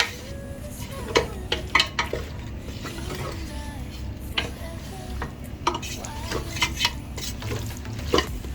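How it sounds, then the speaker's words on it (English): Beef stew in a pressure cooker pot is stirred with a spoon that scrapes and clinks against the sides while the thick contents bubble and sizzle softly, close up with irregular strokes and no talk. "So we're going to stir."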